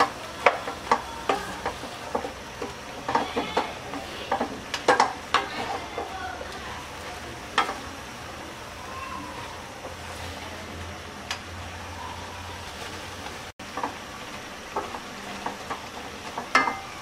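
Bottle gourd greens with potato, flat beans, green chilies, onion and garlic fry in a pan on the stove, with a low sizzle under repeated clicks and scrapes of stirring at irregular intervals.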